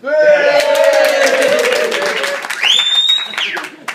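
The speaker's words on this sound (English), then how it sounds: "It says, stand up to applause and cheers." Wedding guests applaud and cheer during a best man speech, a dense roar of clapping with whoops and rising shouts, loud and close.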